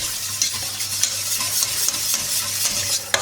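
Pumpkin soup being stirred in a pot on the stove, a steady scraping swirl with soft sizzling and occasional spoon knocks against the pot, close and continuous with no talk.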